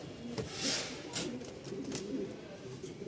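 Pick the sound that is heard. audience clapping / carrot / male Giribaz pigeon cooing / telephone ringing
male Giribaz pigeon cooing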